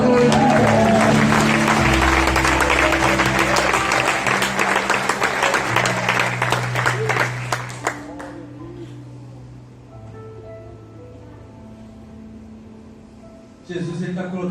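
A church congregation breaks into loud, dense applause under organ or keyboard chords, the clapping sustained for several seconds before dropping away abruptly, leaving soft sustained music, with a brief swell returning at the very end.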